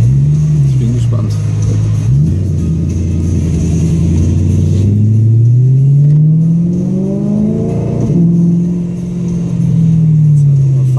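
A BMW E92 M3 with 420 PS accelerates on a test drive, its engine note rising and falling in loud sweeping revs with a throttle blip, while people talk inside the car over the drone.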